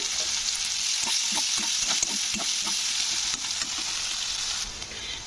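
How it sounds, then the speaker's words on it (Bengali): Large onions sizzle steadily as they are lightly fried in a hot pan while a utensil stirs and scrapes them in short irregular strokes. "পেঁয়াজটাকে একটু হালকা ভেজে নিতে হবে"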